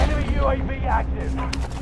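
Bursts of gunfire crackle in a shooter video game, short sharp shots mixed with a voice talking over them, loud and close throughout.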